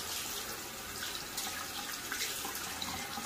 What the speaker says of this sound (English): we're going to turn our water on